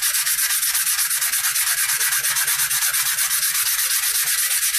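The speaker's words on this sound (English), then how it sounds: "Keep that sandpaper soaking wet and it'll keep on cutting." Wet sandpaper rubs steadily over a knife handle, a continuous rhythmic scrubbing with quick repeated strokes, close and alone.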